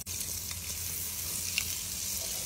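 Ginger sizzling and frying in butter in a pan for a squid dish, a steady close hiss with light stirring scrapes running throughout, no talking.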